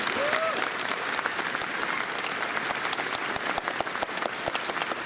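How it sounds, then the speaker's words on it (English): Audience at a furry convention opening ceremony applauds steadily for the event's safety team, a dense crowd clapping throughout with faint voices mixed in. "Big round of applause, by the way, for our safety team for handling a lot of that."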